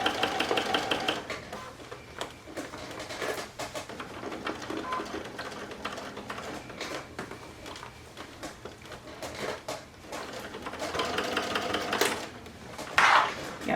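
A sewing machine stitches through many thick fabric layers of a Christmas stocking, its motor buzzing in uneven rhythmic bursts with brief pauses and small clicks, fairly close and with no talking.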